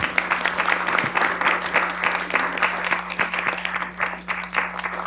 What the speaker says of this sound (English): So now's our time to applaud.